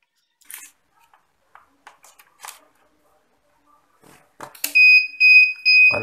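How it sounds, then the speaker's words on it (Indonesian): An XM 18 incubator controller alarm sounds a loud, repeated high electronic beep in quick pulses after several small clicks and handling noises. "Untuk menghilangkan alarm, kita tekan tombol panah bawah."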